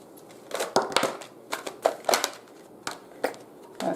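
Oracle cards shuffled by hand, a run of crisp papery riffles and slaps in an irregular rhythm, close and fairly loud with no talk over them.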